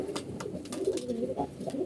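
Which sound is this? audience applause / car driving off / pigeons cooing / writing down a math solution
pigeons cooing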